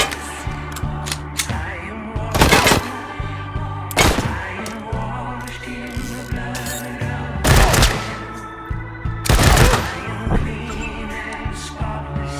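Rapid bursts of gunfire in the post-apocalyptic video game Wasteland 3, with repeated shots and several louder heavy blasts spread across a dense, busy combat soundscape over music.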